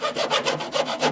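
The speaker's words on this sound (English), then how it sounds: "using a hacksaw, it's not the best thing for wood, but it works here for reasons you'll see in a moment. Just cut that length of doweling off" A hacksaw cuts through a length of wooden dowel up close, with quick, rasping back-and-forth strokes, about eight in rapid, even succession.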